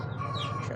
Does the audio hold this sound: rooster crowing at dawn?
yes